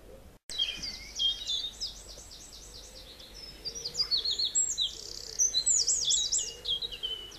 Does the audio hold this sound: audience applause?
no